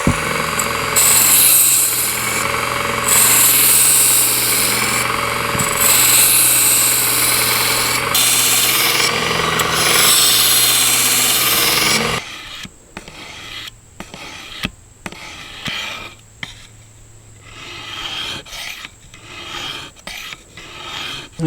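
A Work Sharp Combo knife sharpener runs against a knife edge, a loud buzzing motor with grinding rasp for about twelve seconds, then quieter intermittent short passes.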